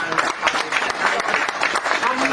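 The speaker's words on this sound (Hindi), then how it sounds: "जोरदार तालियां सबके लिए।" An audience at a school gathering breaks into loud, dense applause, a continuous wash of many hands clapping with a voice speaking over it.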